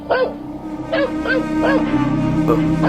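A dog gives a few short yips and whimpery barks, roughly one per second, close by, over a steady hum with people talking quietly.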